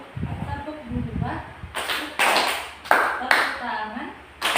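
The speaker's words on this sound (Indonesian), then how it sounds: "Tepuk dua," Kindergarten children at an Islamic school storytelling session clap their hands in a few sharp, loud bursts, following an adult's spoken prompt.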